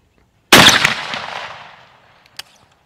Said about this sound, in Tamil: ஸ்டீவ் வந்து அன்றைக்கு எண்பத்தஞ்சு சதவீதத்துக்கு மேலான இலக்குகளை சுட்டார்